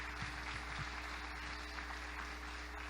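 Congregation applause for the women during a Baptist church celebration service: steady, dense clapping from many people over a low electrical hum, continuous throughout.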